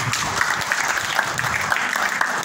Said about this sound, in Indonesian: Tepuk tangan dulu dengan aku